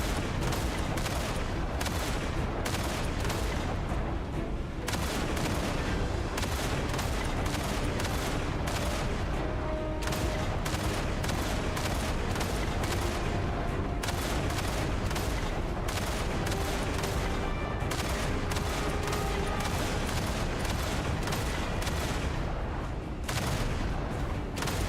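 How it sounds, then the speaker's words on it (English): Rapid bursts of cannon-like booms fire in irregular clusters throughout a cannon-shooting minigame in DNA, loud and dense, with brief lulls between volleys and no talking. "Yo, Jitters, you miss cannon shooting, buddy?"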